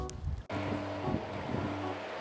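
A boat with twin V12 engines runs with a steady, loud low rumble, preceded by a brief burst of wind noise before the drone settles.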